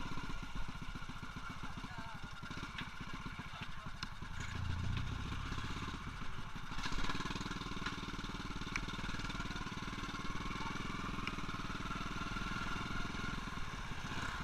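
An old classic motorcycle engine runs steadily and close by, a low, throbbing drone with some mechanical clatter that holds for the whole stretch with no clear revving.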